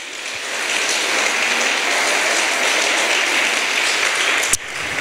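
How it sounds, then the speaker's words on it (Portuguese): A church congregation claps hard and steadily in praise during a worship sermon, a dense, sustained wash of applause filling the room with no break, one sharp louder clap or knock near the end. "Se você crê nisso, aplauda o Senhor bem forte"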